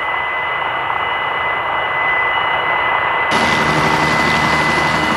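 Kaman helicopter fitted with a Boeing turbine engine, a loud continuous turbine whine and roar with a steady high tone, growing suddenly brighter and fuller midway.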